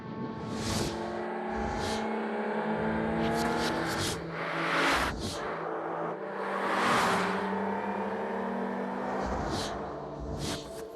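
Engine of an Infiniti G35 driving and revving in a TV commercial, rising and falling revs with passing whooshes, loud and steady under music throughout.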